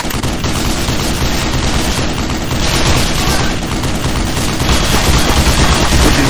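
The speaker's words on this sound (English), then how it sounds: "Oh, nice, mounted machine gun." A mounted .50 cal machine gun in the video game Black Mesa fires in a continuous, dense, loud burst of rapid shots that runs without pause the whole way through.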